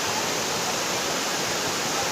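Waterfall in Cameron Highlands, Malaysia, a constant broad rushing roar of falling water, steady and unbroken throughout.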